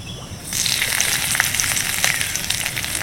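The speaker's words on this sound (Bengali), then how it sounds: "ওই তেলের মধ্যে দিয়ে দিচ্ছি কয়েকটা কারি পাতা।" Curry leaves dropped into a little hot white oil in a kadai burst into a loud, steady sizzle that starts abruptly and keeps crackling close by.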